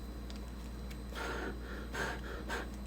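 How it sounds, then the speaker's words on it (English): Heavy breathing through a filtered respirator mask meant for painting, several muffled hissing inhales and exhales close to the microphone over a steady low hum, no talking. "I inhale and exhale out of here."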